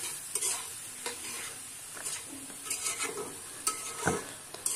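Vegetables frying in a kadai and being stirred again and again, a continuous bright sizzle with repeated scraping and clinking strokes of the spatula close by.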